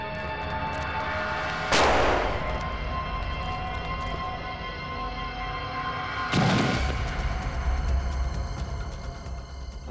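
Two heavy explosions blast something apart, one about a quarter of the way in and another past the midpoint, each a sharp loud boom with a rumbling tail over a steady low background drone.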